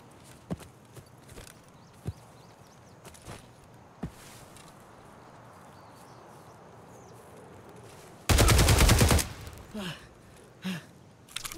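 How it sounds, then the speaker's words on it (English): Gunfire in the video game Escape From Tarkov: a long, loud burst of rapid shots lasts about a second near the end, then a few more cracks, after scattered footsteps and small clicks in a quiet stretch. "You just took an absurd amount of shots."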